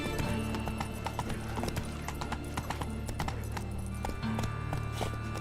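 Horse galloping in The Witcher 3 video game, rapid rhythmic hoofbeats with a steady drone underneath, loud and continuous throughout.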